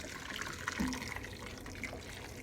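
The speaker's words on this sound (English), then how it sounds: "I'm going in with some hot water from my kettle." Hot water pours from a kettle into a pot of beef bones, a steady close splashing and trickling of liquid that runs throughout without talk.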